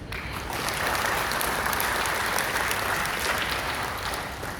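Sustained applause from a large crowd at a company product event in Malang, steady and fairly loud throughout, a dense wash of clapping hands with no pauses.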